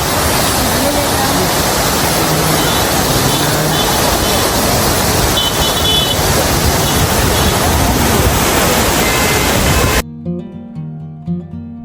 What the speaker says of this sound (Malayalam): സ്റ്റെപ്പിലൂടെ ഒക്കെ വെള്ളം ഇറങ്ങി വരുന്നൊക്കെ എന്താ ഭംഗി.